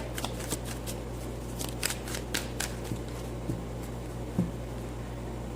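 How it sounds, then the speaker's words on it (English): Tarot cards are riffled and shuffled in quick bursts of crisp flutters, close and moderately loud over a steady low hum. "I'm going to shuffle a bit more here."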